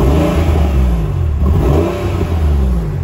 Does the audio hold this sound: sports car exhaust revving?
yes